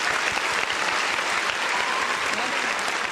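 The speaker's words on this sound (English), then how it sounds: "bunch of hand claps, bunch of round of applauses" A thick, continuous round of applause and hand claps plays through for a show about the San Francisco 49ers' schedule, loud and even from start to finish.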